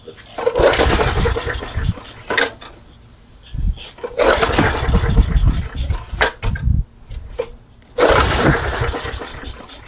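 A small engine, primed with carb spray in the intake, is pulled over three times, each pull a loud burst of sputtering and cranking lasting about two seconds and separated by short pauses.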